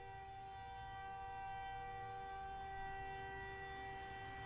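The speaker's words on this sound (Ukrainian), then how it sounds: "Сьогодні забастовка і тестують сирени. Чуєте?" A steady, sustained civil defense siren test tone with layered harmonics wails continuously throughout, sounding distant and faint under a low background rumble.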